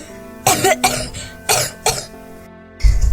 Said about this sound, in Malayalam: ചുമച്ചിട്ട് തീരെ വയ്യ